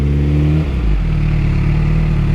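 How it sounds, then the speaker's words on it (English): Car motor revving with a launch-control mode engaged, a loud steady engine drone that shifts pitch partway through, sounding close and continuous with no talk. "You can hear the motor make that different sound."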